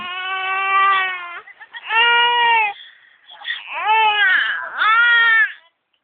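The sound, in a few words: baby crying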